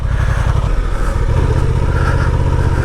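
Honda Transalp 750 motorcycle from 2023, engine pulling steadily under acceleration with a deep, even rumble and a constant throb, close and loud throughout with no talk.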